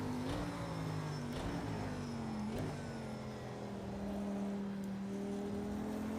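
Racing car engine in a VR racing game, driven on a track, holds a steady whining drone with small pitch rises and dips as it revs, continuous and fairly quiet throughout with no talk.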